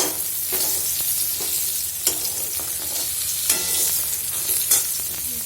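Pointed gourd (potol) slices frying in a pan, a steady close hiss of oil with scattered sharp crackles and pops throughout, no voices.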